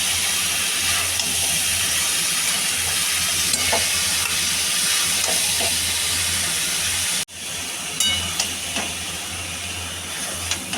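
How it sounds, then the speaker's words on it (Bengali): Boiled banana flower (mocha) is stirred in a frying pan, filling the clip with a loud, constant sizzle and hiss, broken by a brief dip partway through and light scraping touches of the utensil afterward. "এবার সেদ্ধ মোচাটা দিয়ে দেওয়া হলো এবার নাড়ব"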